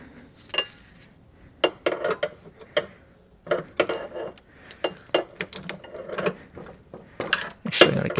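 An adjustable wrench works an oil cooler line fitting on a GM 6.5L diesel engine, giving scattered metallic clicks, taps and scrapes in short irregular clusters, close and fairly quiet.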